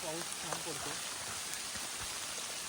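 Monsoon rain falling in the Kundalika Valley at Tamhini Ghat makes a steady, dense hiss that runs throughout, with a voice speaking briefly near the start.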